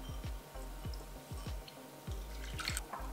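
Hot water, one cup, poured evenly over a chicken, mushroom and rice casserole in a baking dish, giving a steady close liquid splash with small dripping and trickling sounds.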